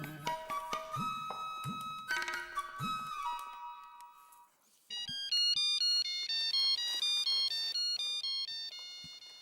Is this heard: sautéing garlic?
no